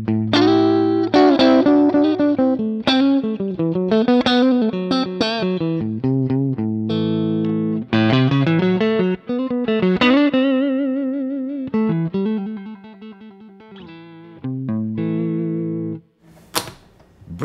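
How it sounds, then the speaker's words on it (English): Electric guitar riffs and sustained notes through a Milkman Sounds The Amp Stereo, loud and slightly overdriven, with a light reverb tail, pausing briefly before a final scratchy strum. "Here's just the amp itself with a little bit of reverb."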